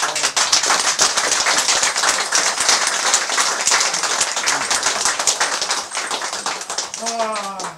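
A German talk-show audience claps for a storyteller, many hands in a dense, fast patter that holds steady, then thins near the end as a voice begins speaking over it.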